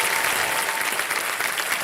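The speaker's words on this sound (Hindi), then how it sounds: "ओके, बहुत बहुत स्वागत एक बार फिर जोरदार तालियों के साथ।" Audience applause at a game show event, a brief, steady wash of clapping from a crowd at close range with no talk over it.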